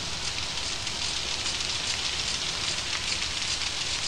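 Rain or sprinklers in the Outlast video game hiss as a steady dense patter of water falling on surfaces, constant and fairly loud with no voices over it.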